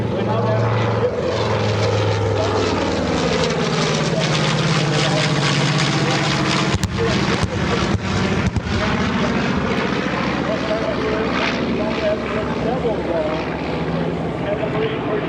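A propeller-driven warbird flies past at an airshow, its engine drone rising and falling with a Doppler sweep as it passes, loud and sustained, while a commentator talks over it.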